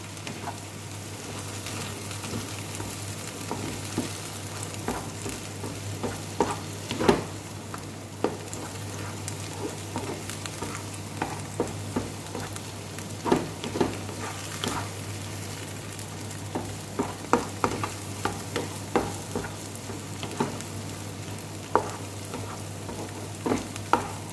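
Food fries in a pan with a constant sizzle while a utensil stirs it, scraping and clacking in irregular bursts over nearly half a minute, close and fairly quiet with no voices.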